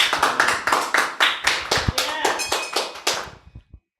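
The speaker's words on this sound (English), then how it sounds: "Clap that up." Audience clapping in a burst of sharp, dense applause lasting about three seconds before fading out, close and loud.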